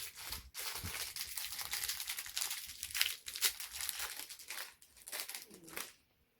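Plastic packaging from a Skadis notice board kit being opened, with continuous close crinkling and rustling, some sharper tearing crackles, then a sudden stop.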